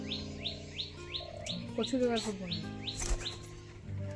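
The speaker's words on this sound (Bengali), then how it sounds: "চারিদিকে শুধু পাখির আওয়াজ।" Bright, rapid bird chirps repeat in an even rhythm, close and clear, while people talk quietly underneath.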